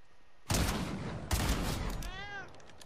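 Two loud bursts of rapid gunfire ring out in a video game, followed by a short, high cat meow right after the second volley, a kill effect from the Rubius icon bundle.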